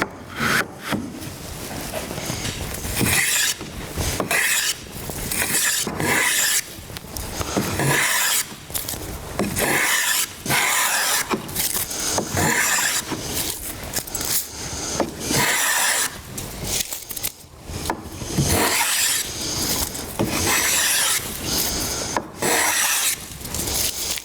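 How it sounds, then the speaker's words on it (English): A hand plane shaves wood along a length of crown molding, loud close rasping strokes repeating in a steady back-and-forth rhythm with brief pauses between passes. "this material will be planed away until we touch both of these lines"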